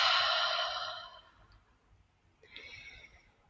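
A long, breathy exhale pushed out through the mouth, loud and airy at first and tapering off over about a second, followed by quiet and a softer breath near the end.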